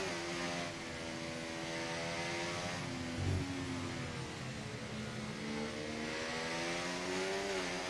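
An F1 race car engine in the F1 24 video game revs high at the start at Singapore, a sustained buzzing whine held steady with small pitch shifts and a brief thump midway, no voices.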